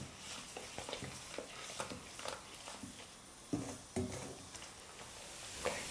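Sugar is being stirred into vermicelli payasam in a pan: soft scraping and tapping strokes with a light sizzle underneath, quiet and irregular, with no talking.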